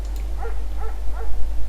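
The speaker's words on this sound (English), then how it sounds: "Mayhem is an excellent dog." A German Shepherd barks three quick times in Firewatch, short evenly spaced yips over a steady low hum, close and moderately loud.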